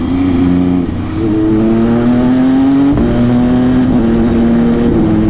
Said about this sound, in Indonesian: gua kalau misalnya kayak naikin gigi gitu ya sambil ngegas kayak tadi